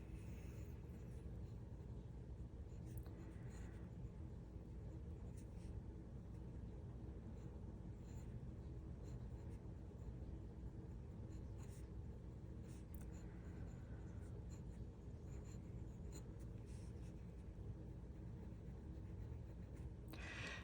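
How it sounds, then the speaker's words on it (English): Fountain pen laying down wet ink on paper, a soft, steady scratching of nib on paper that stays faint under a low background rumble throughout, with no talking. "Let me write that one more time"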